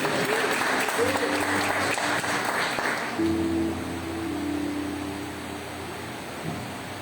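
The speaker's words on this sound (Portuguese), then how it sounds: "Você pode mais uma vez aplaudir o Senhor" A church congregation applauds the Lord during a Wednesday evening service, a dense, steady wash of clapping that carries on for several seconds and eases off slightly toward the end, with faint voices underneath.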